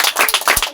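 A brief burst of several quick hand claps from an audience at a kabaddi match in Gaighata, applauding a team captain; close and sharp, lasting under a second.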